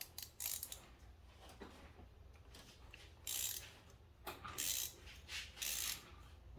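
A 3/8 inch drive ratchet with a 5/8 inch spark plug socket and extension works the spark plugs on a 2010 Audi Q5 3.2L V6 FSI Quattro, giving repeated bursts of rapid clicking, close and clear with short pauses.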